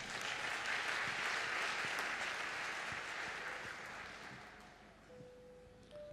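A church congregation applauds loudly and steadily during a worship service, the clapping fading a little toward the end as a faint tone sounds.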